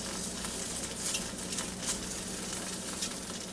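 Buttermilk-battered Louisiana pork chops fry in a pot of oil, giving a steady, bright sizzle with soft popping bursts, heard close and fairly quiet with no voices.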